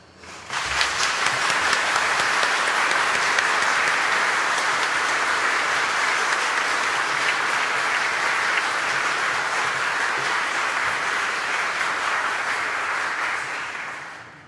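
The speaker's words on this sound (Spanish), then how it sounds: "El público les puede brindar un merecido aplauso" Sustained applause from an audience at a Chilean Supreme Court swearing-in ceremony for new lawyers, loud and dense, rising quickly and holding steady for about thirteen seconds before fading out at the end, with no talk over it.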